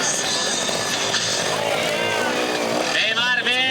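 A trial motorcycle's engine at the 2014 Miquel Mabras memorial trial in Castellolí, buzzing and revving near the microphone with throttle blips and held revs, under steady talk from a commentator.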